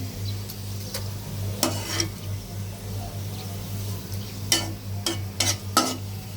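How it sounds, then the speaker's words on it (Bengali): Onions fry in a pan until reddish-brown, giving a soft sizzle over a low steady hum, broken by several sharp spatula scrapes and taps against the pan. "এই তো লাল করে পেঁয়াজগুলো ভাজা হয়ে গেছে।"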